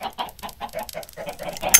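Minecraft chickens clucking in a steady run of short, bright clucks, about eight in under two seconds, fairly close and with no voices over them.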